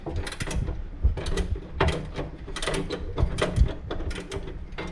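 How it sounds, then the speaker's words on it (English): A ratchet wrench clicks in quick irregular bursts, close and crisp, while working on the 1600 crossflow engine of a Ford Capri. Short pauses separate the runs of clicks. "It's like with the ratchets that you can get different number of teeth in the ratchet."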